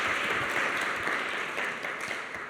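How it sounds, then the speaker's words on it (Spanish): A church congregation applauding together, a dense, steady wash of many hands clapping that fills the room and fades slightly toward the end. "¿Cuántos aplauden al Señor?"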